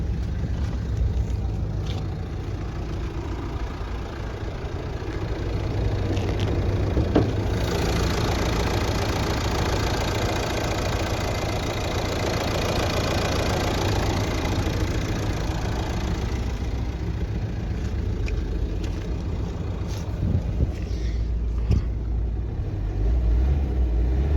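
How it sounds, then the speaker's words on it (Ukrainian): A 1.9 dCi diesel engine in a Renault Megane 3 idles steadily for a long stretch, a close, continuous knocking rumble with no voices. "Заведемо і послухаємо роботу двигуна."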